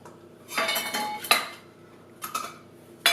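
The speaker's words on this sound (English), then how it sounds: "I'm going to go for the individual option again this time, so just individual pie dishes." Individual metal pie dishes for a chocolate tart set out on a kitchen counter, a few close, sharp clinks and rattles in separate bursts with quiet gaps between them.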